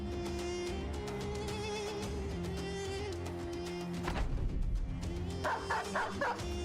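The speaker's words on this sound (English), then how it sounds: "Dogs are all going to start gnawing on him" Dogs in the Battle Brothers video game yip and bark in a run of short calls over steady game music, the calls sitting close and moderately loud with a few whimpers among them.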